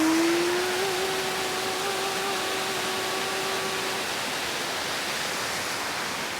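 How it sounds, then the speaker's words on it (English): A waterfall in the Driftless region roars steadily and close for the whole stretch, a broad, even rush of falling water, with a faint high whine fading out partway through and no voices. "it's me by the waterfall from a different angle"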